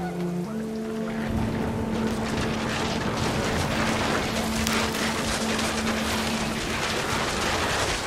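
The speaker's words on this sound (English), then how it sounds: "The rain came down in buckets then," Heavy rain pours down in a dense, steady roar in the video game What Remains of Edith Finch, loud and continuous, with brief tonal notes at the start.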